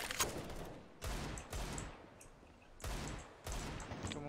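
Bursts of rapid gunfire in the game CS:GO, four or five separate volleys with short pauses between them, loud and close, no one speaking.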